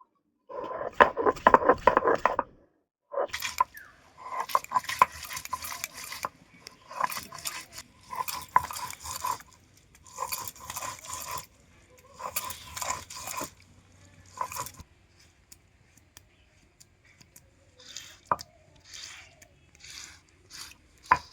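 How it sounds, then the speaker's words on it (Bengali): Ginger and garlic ground into paste by hand on a stone, rhythmic close bursts of crunching and scraping separated by short pauses, fading to sparse taps near the end. "কাঁটা মাছের তেল ঝালের জন্যে আমি আদা রসুনটা আমি বেটে নেব।"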